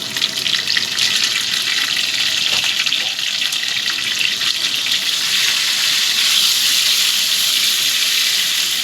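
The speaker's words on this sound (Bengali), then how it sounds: "এবার আমি এর মধ্যে দিয়ে দেব কেটে রাখা টমেটোগুলো" Chopped tomatoes go into frying potatoes in a pan, giving a loud, continuous close sizzle and hiss that carries on without pause and without talk.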